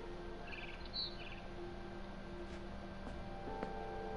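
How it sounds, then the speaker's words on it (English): A barn swallow chirps in the game What Remains of Edith Finch, giving a few faint, brief high twitters near the start over a steady low ambient hum and background tones. "Then I heard chirping outside my window."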